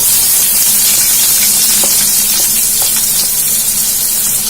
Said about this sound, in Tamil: கடுகும் ஜீரகமும் நல்லா பொரிஞ்ச உடனே ஒரு பெரிய வெங்காயம் நல்லா சின்னதா கட் பண்ணி வச்சிருக்கேன், அதை நம்ம இதுல போட்டுக்கலாம்